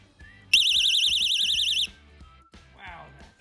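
A Noopel wireless magnetic window alarm shrieks with a loud, piercing warbling siren for about a second and a half as the window opens, then cuts off, with faint background noise after.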